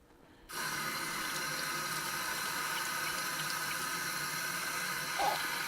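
A tap is switched on and water runs steadily into a sink to rinse a dropper used for resin casting, a constant close hiss after a quiet start, with a small splash near the end.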